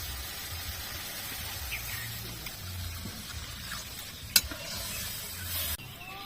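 Water poured into a sizzling fried spice paste for a fish curry: steady, soft sizzling in a pan with a faint hiss, a single sharp clink midway, and a short burst near the end.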